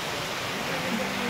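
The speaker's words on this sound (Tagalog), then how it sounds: "Malakas ang ulan." Heavy rain pouring down at a work site, a loud, dense, unbroken roar close by, with a faint voice briefly audible beneath it.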